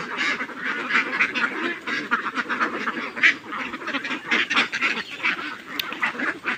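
A flock of domestic ducks at evening feeding on paddy grain quacks and chatters continuously and loudly up close, many overlapping calls with no pauses and no talking.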